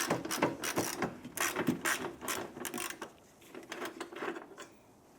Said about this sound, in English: Using an 8mm socket, going to loosen and remove this bolt right here.